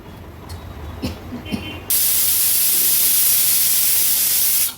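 A pressure cooker holding Maharashtrian Agri Koli-style rajma (kidney bean) curry with jaggery suddenly vents: after a quiet stretch, a loud, steady rush of hissing steam bursts out and holds for about three seconds before cutting off.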